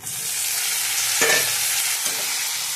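Onion, ginger-garlic paste and tomato masala are stirred in a hot pan for aloo matar sabji, giving a loud, steady sizzle with a couple of distinct spoon scrapes through it, no voices.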